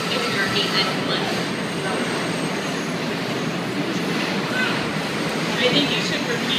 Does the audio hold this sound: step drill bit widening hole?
no